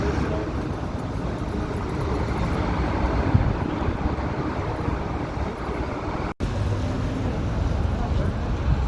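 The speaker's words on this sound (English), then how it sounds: "A helicopter's about to land on it" Steady, loud rotor-engine drone of a helicopter flying nearby in Lower Manhattan, continuous throughout with a brief dropout near the end.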